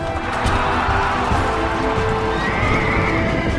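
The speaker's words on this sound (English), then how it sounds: "There was the Hippodrome, where chariot and horse racing events took place." Horses at a chariot race whinny and neigh over steady clip-clopping hooves, a dense, continuous mix of animal calls and hoofbeats throughout.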